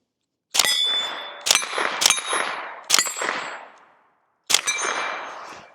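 A suppressed Ruger LC Carbine in 10mm fires five sharp, close shots, three in quick succession and two more after short pauses, each crack followed by a ringing metallic tail and decay.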